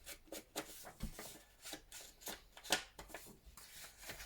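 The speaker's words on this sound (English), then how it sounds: "And then I'm going to fold it over" Two printed paper pages are folded into a small booklet, giving close, quiet crinkles and soft rubbing swipes in a quick irregular rhythm.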